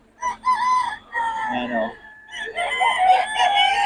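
Gamefowl roosters crow and cluck nearby on a damp, rainy day, with overlapping drawn-out calls and short clucks, while someone speaks briefly over them.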